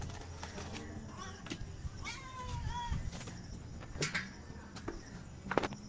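A cat meows a few times nearby, late at night outside a convenience store, short rising cries over quiet outdoor background noise with some faint clicks and murmurs.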